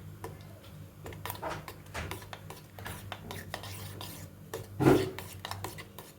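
A spoon stirs a melting neem soap mixture with onion soap in a pan, giving a steady run of close, soft clicks and scrapes, with one louder knock near the end.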